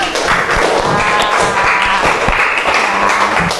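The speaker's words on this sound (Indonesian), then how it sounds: "tepuk tangan untuk kita semua" Students in an elementary school Islamic religious education class clap together, a dense, loud patter with some thumping, running throughout without a break.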